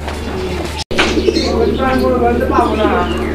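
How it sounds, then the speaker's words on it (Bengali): A fancy pigeon, one of a male-and-female pair, coos close by with repeated low, throaty calls, while people talk over it and a brief cut interrupts the sound. "দেখেন ভরপুর ডাকের একটা কবুতর"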